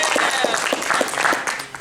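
A room at a university theatre department reunion gives the alumni panel a burst of close, lively applause, many hands clapping together for under two seconds, with a voice heard through it.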